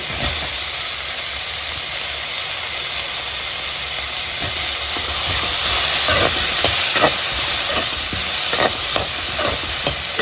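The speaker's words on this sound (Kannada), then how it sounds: "ಹಾಗೆಯೇ ಆಲೂಗಡ್ಡೆಯನ್ನು ಹಾಕ್ಕೊಳ್ತೀನಿ" Potatoes, cut and partly pre-cooked, sizzle and hiss steadily in a hot pan as they are stir-fried, with scraping stir strokes growing more frequent toward the end, loud and close with no talking.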